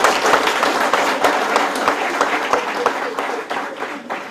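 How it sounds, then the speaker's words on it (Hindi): A group of children at a youth gathering in Raipur clap their hands together in a dense, lively burst of many overlapping claps, close and fairly loud, with no talk over it. "रोक दीजिए और तालियां बजा लीजिए।"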